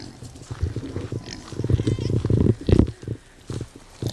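A Kunekune pig grunting in a series of close, irregular low grunts, some louder bursts near the end, during a nighttime birthing season on a small farm.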